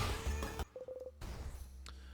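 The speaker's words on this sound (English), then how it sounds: "That's just a cell phone." A cell phone rings in the video game In Stars and Time, a short run of rapid electronic beeping tones cutting in briefly between louder game music and noise.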